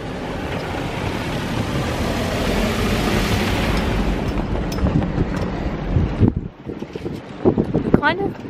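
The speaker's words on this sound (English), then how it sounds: "Hope you can hear me in the wind." Strong wind buffets a sailboat riding at anchor close to rocks, a loud continuous roaring rush that drops away near the end, leaving quieter gusts and small knocks.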